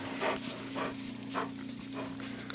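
A destructive dog pants in rhythmic, breathy bursts, about four heavy exhalations close by, over a steady background hum.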